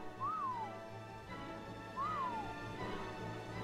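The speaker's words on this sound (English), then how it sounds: "I'm gonna whistle it to me" Two rising-then-falling whistles, about two seconds apart, call a creature in the survival game ARK, with steady game ambience droning underneath.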